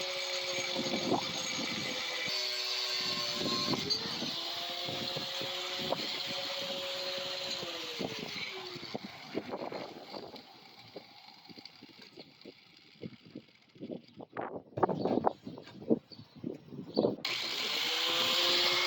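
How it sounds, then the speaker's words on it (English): Angle grinder cutting metal during a trike build on a Coleman CT200U-EX, a loud, sustained high whine with uneven bursts and pauses as the blade bites and lifts off the workpiece. "So I'm gonna take the grinder and cut it"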